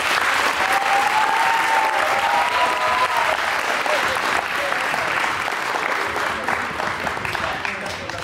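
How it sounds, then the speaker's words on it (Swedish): A crowd at a basketball club's season-ending event gives a loud, dense round of applause that stays sustained and even, with scattered voices mixed into the clapping. "En stor applåd."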